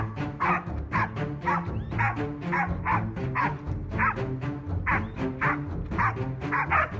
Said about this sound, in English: the dogs go wild near the forest's edge.